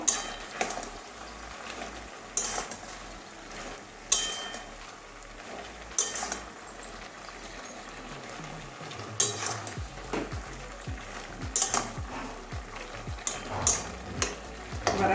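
A spoon stirs pui shak curry with papaya and bori in a pan, its repeated metallic scrapes and clinks knocking at a steady pace over a soft, continuous sizzle close by.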